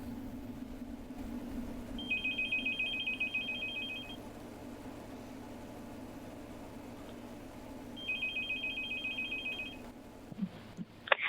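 Ringback tone of an outgoing telephone call, two long electronic ring bursts several seconds apart over a steady low hum, clear and fairly close with no talk.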